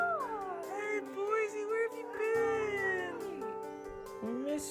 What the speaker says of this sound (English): we could just hear this meowing